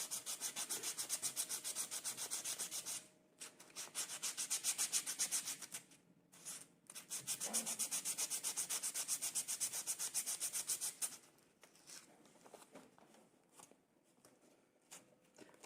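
Purpleheart wood hand-sanded with fine-grit sandpaper, close rhythmic rasping strokes in long steady runs broken by brief pauses, then fading to lighter scattered rubs toward the end, with no talking.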